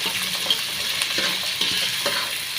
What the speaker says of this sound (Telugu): దంచి పెట్టుకున్న అల్లము తెల్లగడ్డ పేస్ట్ అయితే వేసుకున్నాము